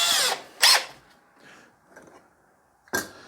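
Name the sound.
7/16 nut driver fastening bracket to garage door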